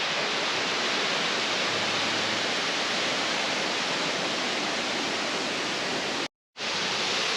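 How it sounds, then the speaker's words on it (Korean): Huibang waterfall on Sobaeksan mountain roars as a dense, steady rush of falling water heard from above, loud and continuous, broken only by one brief dropout near the end, with no talk. "희방 폭포 네, 위에서 바라본 모습입니다."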